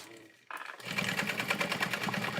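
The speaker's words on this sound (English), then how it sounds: "I'm doing a box stitch to secure" Sewing machine running a box stitch to secure a strap while making a tote bag, starting after a brief quiet moment and then whirring steadily with a rapid, even needle rhythm, close and fairly loud.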